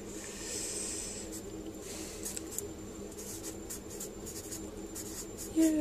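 Pencil sketching of a Triumph Bonneville motorcycle tank: faint, soft scratching strokes come and go in short bursts over a quiet background hiss.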